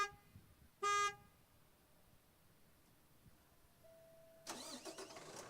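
Horn toots briefly, then after a quiet pause a truck engine cranks and catches near the end, the start of a dump-body work truck during a pre-operation inspection, with no talk over it.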